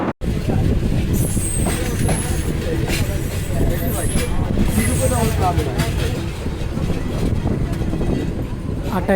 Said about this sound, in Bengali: বিশাল কার্ভ নিয়ে ট্রেন ছুটে চলেছে আজমপুরের দিকে